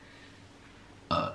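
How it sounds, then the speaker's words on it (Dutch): A single short, throaty burp erupts near the end after a quiet room tone, close and fairly loud. "Dat was een boer."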